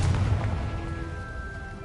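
A Confringo blasting curse detonating in Hogwarts Legacy, a loud booming blast with a rumbling low tail that fades over a couple of seconds.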